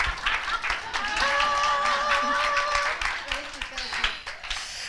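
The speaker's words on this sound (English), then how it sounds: "One more big round of applause." An audience claps and cheers at a live stage show, the applause swelling and then thinning out while a voice rings out over the crowd.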